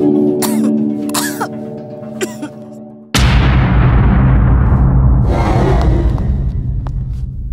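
A woman coughs several times in a film scene, short harsh bursts over a low background hum, then a loud deep rumble takes over and holds steady to the end.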